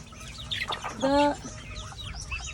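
Chickens cluck and chirp at a farmyard feeding with ducks nearby, a mix of short close calls and one louder drawn-out squawk in the middle, with background bird chatter throughout.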